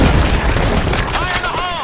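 A grenade explodes in a video game, a loud, heavy boom that fills the whole moment, with crackling debris trailing off after the blast.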